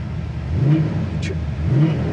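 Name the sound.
1969 Firebird 400 restomod engine revving through dual exhaust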